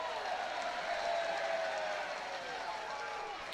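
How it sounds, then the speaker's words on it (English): Sarcastic cheering from the crowd at a college baseball game, a broad sustained roar of voices heard from the broadcast booth, steady and distant for several seconds with no talk over it. "When you've earned your third sarcastic cheer from the crowd through the first two innings of the game, that's pretty loud."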